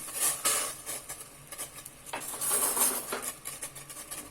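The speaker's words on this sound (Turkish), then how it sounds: "Karıştıracağım şimdi." Rose petals being stirred in boiling water in a pot for rose jam, giving soft scraping and clinking strokes against the pot over a steady bubbling hiss, with no talking.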